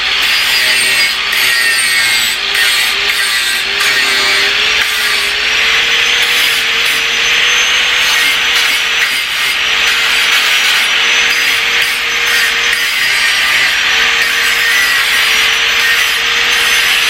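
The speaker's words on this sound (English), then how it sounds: "Okay, we're going to grind this clean a little bit." A grinder works on a Porsche 911 exhaust part, cleaning it up in one loud, continuous close whine with abrasive rasping and a slightly wavering pitch throughout.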